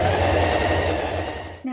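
A sewing machine stay stitches around the back neck edge of an unlined winter coat, a loud close steady whir that stops abruptly near the end.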